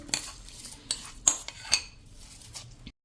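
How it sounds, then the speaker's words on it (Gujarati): A few sharp metallic clinks and taps as soaked rice is put into a mixer jar, spaced irregularly, close and fairly crisp, with no talking. "અને એને હવે આપણે આમાં"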